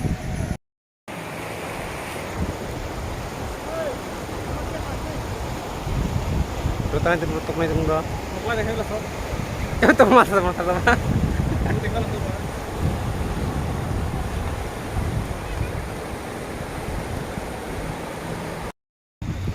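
A river flowing down from Bhutan rushes steadily at a busy picnic spot where people are bathing, a loud broadband roar of moving water with wind buffeting the microphone and voices of people chatting and calling now and then.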